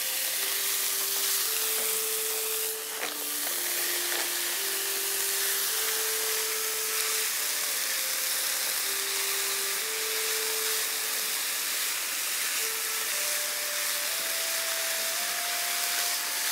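Peas and carrots sizzle and hiss steadily in a hot pan for a spicy Asian vegetarian medley, a broad, continuous frying noise heard up close with a faint tonal hum underneath and no talking.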